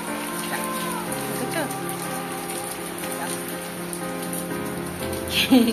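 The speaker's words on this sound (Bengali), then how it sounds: "খুব জোর বৃষ্টি হচ্ছে, জোর নেমে গেছে বৃষ্টি একদম" Heavy rain pours steadily, a dense continuous patter on surfaces, with faint voices murmuring underneath.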